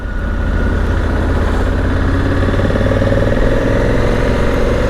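A motorcycle engine runs steadily throughout, a loud, continuous low rumble with wind roar on a sunny ride along the German Autobahn, no talk over it.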